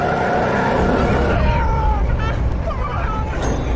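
Car engine roaring loud and continuous as a vehicle speeds off during a film car chase, with a brief tire squeal and muffled voices and commotion mixed in beneath the engine noise.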